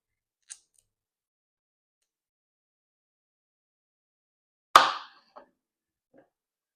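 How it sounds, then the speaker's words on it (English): Knife or scissors cutting the stems off baby broccoli for a salad: one faint snip, a long silence, then a single crisp loud cut followed by two small soft clicks, all without voices. "I'm going to cut the stems down"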